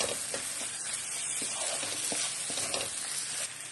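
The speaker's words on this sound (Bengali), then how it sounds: "আলুটা দেওয়ার পরে আবারও আমি কিছুটা নেড়ে ছেড়ে দেব, যাতে মশলাটার গায়ে" Potatoes stirred in spice paste in a hot frying pan, a steady close sizzle with soft scraping strokes from the spoon running throughout.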